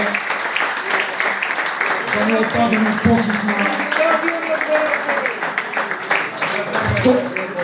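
An audience applauds at a reunion of a football club's most successful generation, with clapping rising and falling while someone speaks over it the whole time.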